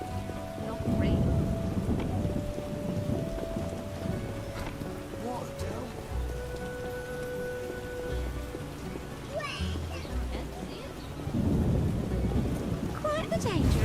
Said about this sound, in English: Storms come in.